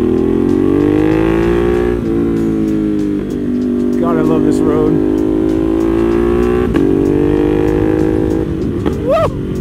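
A Ducati Panigale V4 SP Limited Edition motorcycle engine drones steadily while riding on a road, with occasional revs and a throaty exhaust note, while riders talk over the engine.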